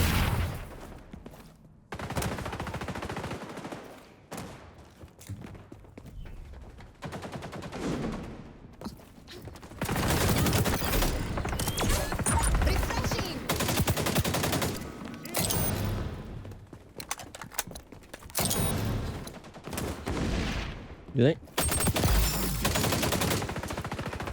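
AK-47 rapid fire in the shooter game XDefiant, repeated bursts of sharp automatic gunshots in long sustained strings separated by short gaps, loud and close, with occasional thuds.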